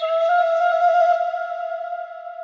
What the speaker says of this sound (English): a flute kind of sound. And it's just some flavor for the joint.